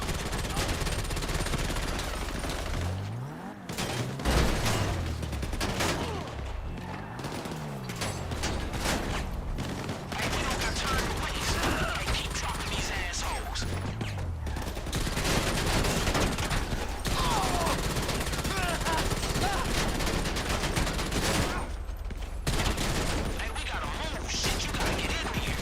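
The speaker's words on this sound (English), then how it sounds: "Mag dump." In GTA 5 Online, a magazine is emptied in long bursts of rapid gunfire mixed with mechanical clatter and in-game sounds, loud and nearly continuous throughout, with brief lulls between volleys.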